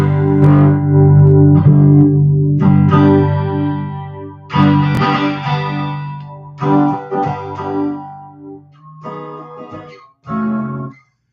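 Fender American Performer Telecaster on the bridge pickup with a bright, twangy distorted tone playing sustained chords and short phrases, loud and close, with pauses between the strums.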